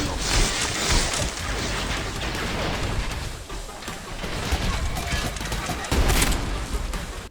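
Gunfire and explosions in the video game Trepang2, a dense, loud barrage of shots and crashing blasts rolling almost without pause, with heavier booming hits standing out near the start and end.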